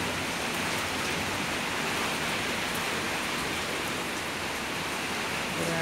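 Heavy tropical downpour driven by strong wind, a dense, loud, unbroken roar of rain hitting surfaces at close range, constant in level with no voices.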